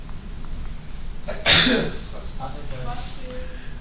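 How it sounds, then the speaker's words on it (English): A single sharp sneeze bursts out midway, loud and brief, over a steady background hum with faint voices around it. "no more sneezing while I'm recording"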